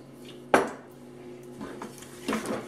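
Slow cooker Mongolian beef ingredients being stirred together produce a loud clink of a utensil against the pot, followed by softer scraping and a second clattering stir near the end. The sounds are close and there is no talk.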